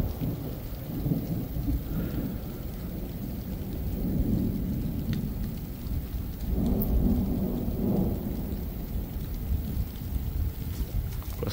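Strong thunderstorm on a July evening: steady rain patters on surfaces while deep rolling thunder rumbles swell and fade several times, distant to moderately near, with no voices.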